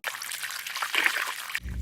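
Water from a hose shower rinses a horse after a jumping session on a hot day, a steady broadband splashing and trickling that runs close and continuous before cutting to a low rumble at the end.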